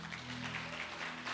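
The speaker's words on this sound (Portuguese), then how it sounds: "Você pode dar um aplauso a ele?" A church congregation claps in steady, dense applause that fills the whole stretch, with a low sustained hum underneath.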